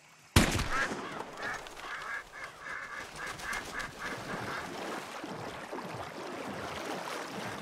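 A duck in the video game Red Dead Redemption 2 gives a run of repeated honking quacks at moderate distance after a sharp opening crack, over a soft outdoor ambience.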